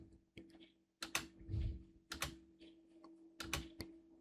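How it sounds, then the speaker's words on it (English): Several clicky spacebar presses on a computer keyboard, spaced irregularly with short pauses, close and fairly quiet, with a faint low hum underneath. "just press the spacebar key on your computer keyboard"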